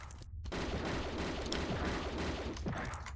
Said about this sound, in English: that was the auto pistol